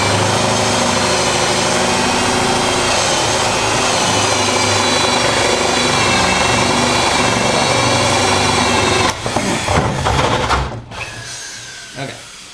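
A corded drill fitted with an Irwin SpeedBor spade bit bores through a wooden door, whining and grinding steadily at close range. The bit then breaks through, and the motor stutters and winds down.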